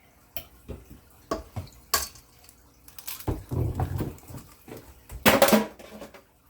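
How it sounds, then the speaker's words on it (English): An egg cracked into a bowl for pineapple upside-down muffin batter, heard as a few sharp taps and clicks against the rim followed by a louder wet splat near the end, close-up, with no talking. "You want to crack the egg into it as well?"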